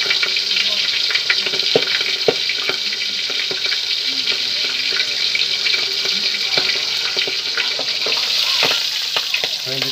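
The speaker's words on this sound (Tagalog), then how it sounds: "Talagang pumuputok yung kawali kung walang sakit yan" Bangus (milkfish) fries in a hot pan with a loud, steady sizzle, sprinkled with sharp crackles and pops of spattering oil.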